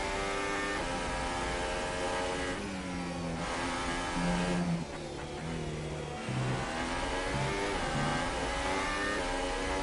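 A sim racing car engine at a Japanese Grand Prix race revs hard out of a hairpin, its pitch climbing in repeated rising sweeps through gear changes, loud and continuous with no voices.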